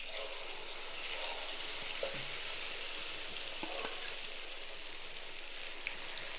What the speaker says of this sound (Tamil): கொஞ்சம் கொஞ்சமாக போட்டு நம்ம பொரிச்சு எடுத்துக்கலாம்